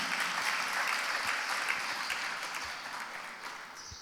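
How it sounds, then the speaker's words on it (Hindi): Dense, rushing applause from an audience at a Hindi religious discourse, a continuous wash of clapping that stays even and then slowly softens over a few seconds. "तो उसके लिए एक बार जोरदार तालियां बजाएं।"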